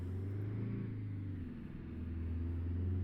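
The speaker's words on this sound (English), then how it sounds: "I'm not necessarily in love with the engine sound" International Fleetstar truck engine in American Truck Simulator, a steady low droning rumble with a slightly synthetic, robotic tone, holding constant with a brief dip midway before settling back to an even hum.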